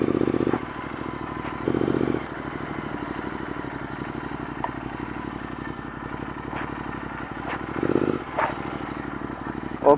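A Royal Enfield Interceptor 650 with an aftermarket Red Rooster exhaust runs with a loud, rhythmic throb close by, swelling on throttle blips and letting out sharp scattered pops and crackles as it settles.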